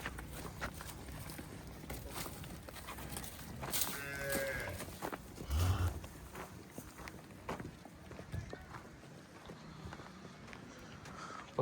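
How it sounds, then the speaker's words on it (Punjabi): A Sahiwal cow at a livestock market gives one low moo, fairly close, amid ambient market bustle with scattered knocks, shuffling hooves and footsteps. "ਇਹ ਗਾਂ ਵੀ ਸਾਹੀਵਾਲ ਹੈ ਤਿਆਰ।"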